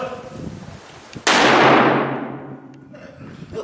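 A single loud blast from a .45 Colt black powder cannon fires close by, its sharp crack opening into a long, roaring boom that decays over about two seconds into faint background.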